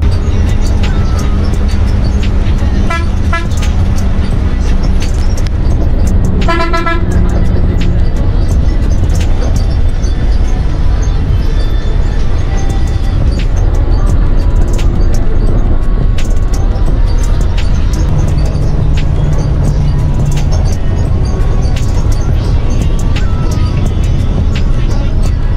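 Riding aboard a Niladri AC bus on the road from Sylhet to Sunamganj, a loud constant engine and road rumble fills the cabin, with brief horn toots and rattles along the way.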